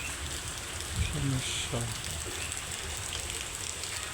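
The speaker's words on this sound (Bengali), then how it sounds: "সেই রকম বৃষ্টি ঝরছে অজোর ধারে।" Heavy rain pours down in a steady, dense hiss that fills the whole stretch, with a brief spoken word partway through.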